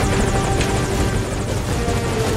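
Helicopter in Metal Gear Solid Ground Zeroes, a loud steady rotor thump and turbine whine close by, continuous without voices.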